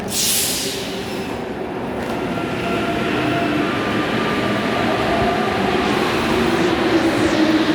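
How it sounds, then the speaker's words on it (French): Trains at Gare Saint-Lazare railway station in Paris, a steady broad rumble of rolling rail cars and station machinery throughout, with faint high squeals and a brief hiss near the start, no talk. "Ça, c'est la gare de Saint-Lazare."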